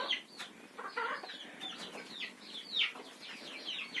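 Roosters and hens clucking in a village coop, a close flurry of repeated short clucks and squawks overlapping throughout, with no talking.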